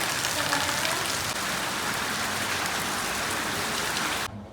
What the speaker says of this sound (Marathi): गेटच्या वर टिपकत टिपाक गेट बघा एकसारखा पाऊस आहे कसा भज्या पाऊस.